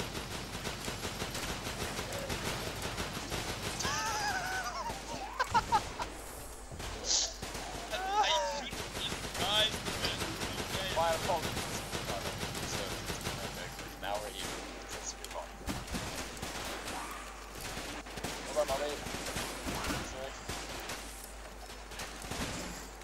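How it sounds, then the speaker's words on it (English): Bursts of machine gun fire and scattered gunshots in the game Running With Rifles run throughout, with distant thuds, dense and continuous under voices talking. "Oh, the machine gun's still there."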